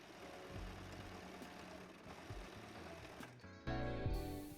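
A sewing machine stitches the side seams of a trouser waistband with a quiet, fast, continuous mechanical whirr. The sound shifts slightly near the end.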